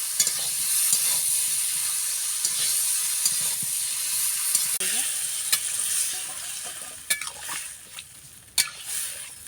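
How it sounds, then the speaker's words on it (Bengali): Fried ridge gourd and potatoes sizzle steadily in a pan with ginger and chilli paste, while a spoon stirs and scrapes in several sharp clatters near the end. "এই ঝিঙে দিয়ে এবার একটু কষে নেব।"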